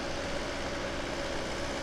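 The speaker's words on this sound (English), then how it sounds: "There's a pretty continuous drone going on over there" A continuous, even drone from nearby construction work carries on without breaks, loud and unchanging.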